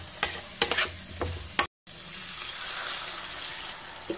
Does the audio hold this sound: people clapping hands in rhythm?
no